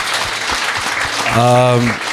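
An audience at a talk applauds as a guest speaker is introduced, a close, steady patter of clapping with a voice speaking briefly over it partway through.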